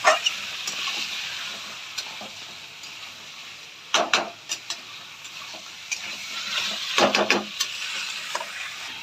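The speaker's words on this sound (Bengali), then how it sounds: "হলদি লঙ্কা দিয়ে দিব। এটা একটু ভাজা হয়ে যাবে" Chicken fries in a pan with turmeric and chili, a steady close sizzle broken by irregular knocks and scrapes of a spoon stirring through the meat.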